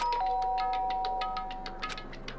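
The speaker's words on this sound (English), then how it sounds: "and pressed the doorbell" A doorbell in the Danganronpa video game rings with a bright electronic chime, followed by a quick run of repeated tinkling tones that fade over about two seconds.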